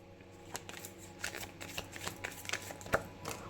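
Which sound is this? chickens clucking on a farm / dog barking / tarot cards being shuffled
tarot cards being shuffled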